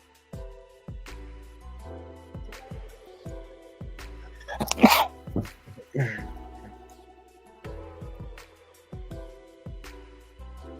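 A single sharp sneeze bursts out in the middle of a casual indoor conversation, and people talk before and after it.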